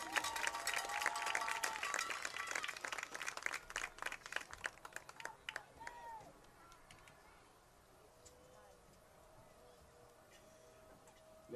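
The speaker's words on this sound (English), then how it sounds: "Please give the second row of senior football players a round of applause as they exit the field." Crowd applause and scattered clapping at a high school football game between the Rivercrest Colts and the Piggott Mohawks, heard outdoors in the stands, busy and mid-distance for several seconds before fading to a quieter murmur.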